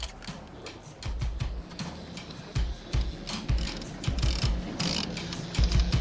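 Fishing reel cranking in a big Lake Michigan trout, rapid ratcheting clicks with uneven rhythm, close and moderately loud, with low knocks and movement underneath.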